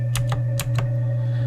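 Typing on a loud Overwatch Razer Chroma keyboard, four sharp, close key clacks in an uneven rhythm over a steady low electrical hum.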